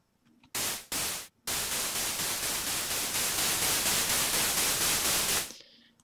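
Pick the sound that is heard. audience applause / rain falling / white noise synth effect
white noise synth effect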